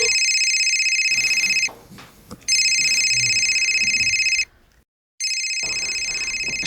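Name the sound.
telephone ringing unanswered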